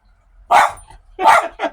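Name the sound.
dog barking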